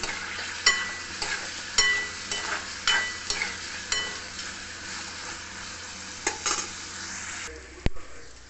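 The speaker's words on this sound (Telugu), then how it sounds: "ఇవి వేగుతున్నాయి" Seasoning of mustard seeds, cumin, fenugreek, asafoetida and dried chilli pieces fries in hot oil in a pan for rasam, a continuous close sizzle broken by sharp crackles, pops and occasional clinks of a utensil.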